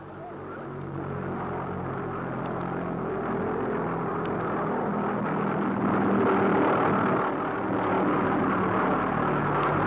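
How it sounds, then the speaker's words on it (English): A World War II V1 Doodlebug flying bomb drones steadily overhead, a constant rumbling, whirring engine tone that holds loud and unbroken for the full stretch, swelling slightly toward the middle. "Here is the sound of a V1 Doodlebug from World War II."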